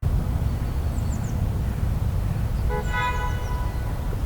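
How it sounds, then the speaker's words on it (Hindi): A car horn gives a single brief toot partway through, faint against a constant wash of broadband road noise. "फिर एक गाड़ी की हॉर्न की आवाज़ आती है और फिर से नॉइज़ में चला जाता है"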